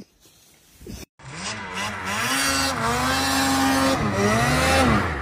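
A vehicle stuck on a slope revs its engine hard in long, rising and falling bursts after a brief cut, loud and close, the pitch climbing as it strains and the tires scrape.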